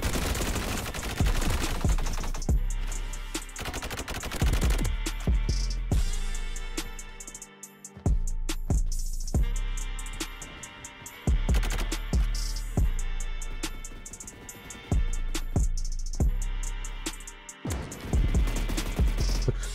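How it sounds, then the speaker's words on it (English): Rapid bursts of automatic gunfire from the Honey Badger gun in the Roblox shooter Energy Assault, loud and close, in repeated volleys separated by brief pauses, with no talking over it. "I don't know who's shooting at me"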